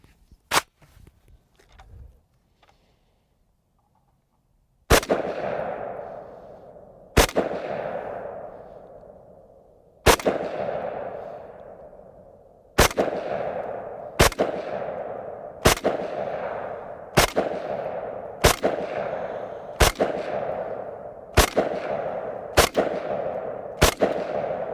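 An FN FS-2000 rifle fires about a dozen single shots at a target, sharp loud cracks spaced a couple of seconds apart that tighten into a quicker rhythm, each with a short ringing tail, after a quiet start.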